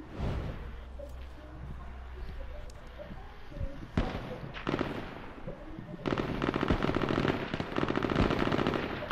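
Gunfire in the battle royale video game H1Z1, with repeated sharp shots and rapid bursts that become louder and denser in the second half, mixed with game noise and some voices.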